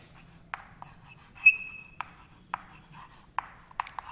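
Pen strokes scratching across paper during a handwritten lecture on units and measurement, a series of short, sharp scrapes spaced irregularly, with a brief squeaky tone in the middle, close and fairly quiet over a low hum.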